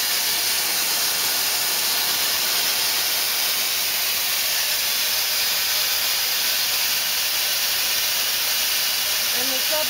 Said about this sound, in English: And the sub spindle now at 2500 RPM.